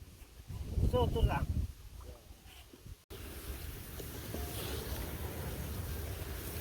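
Wind rushes across the microphone over open water after someone talks briefly, a steady gusty roar that continues to the end.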